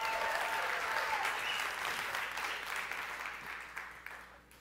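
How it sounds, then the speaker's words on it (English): A large audience at the Oculus E3 reveal claps steadily in a sustained burst of applause that slowly tapers off, heard from within the crowd. "Come on, let's clap."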